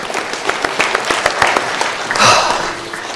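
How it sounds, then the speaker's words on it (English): A church congregation gives a short round of applause, a dense patter of many hands clapping at close range that swells toward the end and holds for about three seconds. "Give yourselves a little round of applause."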